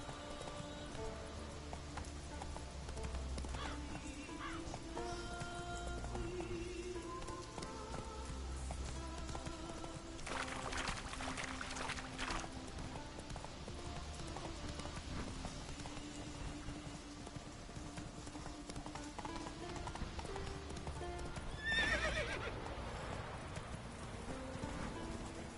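Roach the horse trots in The Witcher 3 with an even, rhythmic clip-clop of hooves over a low game music bed. A couple of brief bursts of louder noise rise above the steady hoofbeats.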